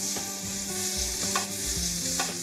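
Kale and chard stirred and frying in a hot, smoky pan, a steady close sizzle broken by a few scraping stirs of the spoon, with no talk.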